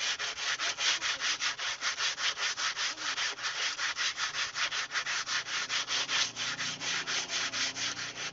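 Sandpaper is rubbed by hand across a brick surface to clean it, giving a close, rasping scrape in quick regular back-and-forth strokes, about four per second, continuing steadily throughout with no talking.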